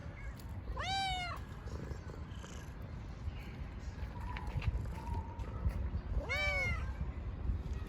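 A cat gives two clear meows several seconds apart over a steady low rumble, one early and one near the end.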